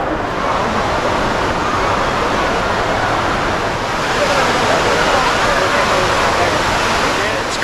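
The world's tallest indoor waterfall at Jewel Changi Airport, a loud, steady roar of falling water filling the space, dense and unbroken throughout.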